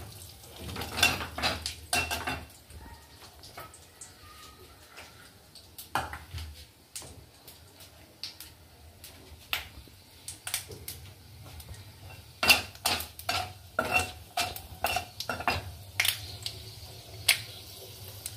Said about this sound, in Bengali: পাঁচফোড়নটা ভাজা হয়ে গেছে।